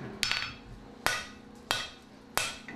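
A blacksmith's hammer strikes iron four times in an uneven rhythm, each blow a sharp, ringing metallic clang that decays briefly, close and fairly loud, with no voices.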